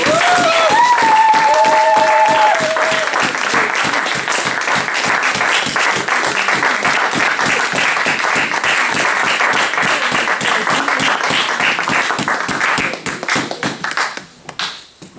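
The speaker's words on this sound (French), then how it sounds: "Est-ce qu'on peut acclamer très fort pour la gloire de Dieu?" A church congregation applauding loudly for a long stretch, dense rhythmic clapping with a brief sung or cheered note at the start, tapering off at the end.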